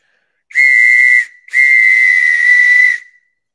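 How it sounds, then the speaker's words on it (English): A loud, piercing whistle sounds twice, a short blast followed by a longer sustained one, close and clear with no talking. "You couldn't warn people you're going to blow that loud whistle"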